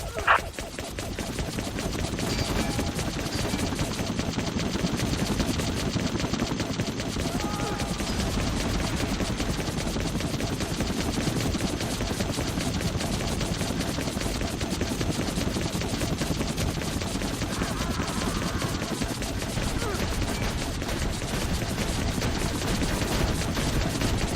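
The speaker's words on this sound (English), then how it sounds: "Enemy fire!" Enemy gunfire in the Vietnam-era air combat game Air Conflicts Vietnam, a continuous dense rattle of automatic fire under steady engine noise, with a louder burst at the very start.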